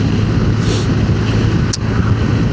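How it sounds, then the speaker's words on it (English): Loud, steady wind buffeting the microphone in a continuous low rumble, with a brief brighter gust near the end. "It is quite windy"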